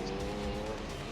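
A race car in Gran Turismo 3, an LMP prototype, turns with a steady tire squeal over a sustained engine drone, loud and continuous for about a second.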